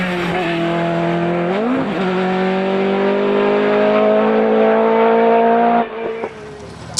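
A rally car runs an asphalt rally stage at the Tour of Epynt, its engine droning loudly and steadily up through the gears with a brief pitch dip, then cutting off abruptly near the end.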